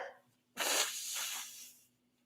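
A person sneezes once, a sudden sharp burst that trails off into a breathy hiss, close and fairly loud, with no talking around it.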